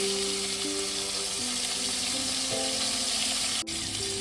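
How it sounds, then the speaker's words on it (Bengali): Pomfret fish frying in a pan for a restaurant-style dudh pomfret, a steady close hiss of hot oil running throughout with a faint background tone and a brief dip near the end. "মিনিট 2-3 এক পিঠ ভেজে নিয়েছি, এটাকে আমি উল্টে দেবো।"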